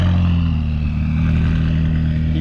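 A tuned McLaren 570S of 790 horsepower fitted with an Armytrix exhaust rumbles loudly and steadily with a deep, constant drone, heard up close without any talking.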